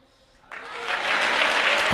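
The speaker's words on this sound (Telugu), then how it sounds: "గట్టిగా గట్టిగా నోటితో స్తోత్రాలు చెబుతూ ఆగకుండా చప్పట్లు కొట్టి ఒక నిమిషం" A church congregation bursts into clapping after a quiet start, the applause swelling quickly into a dense, sustained wash of many hands that stays loud to the end.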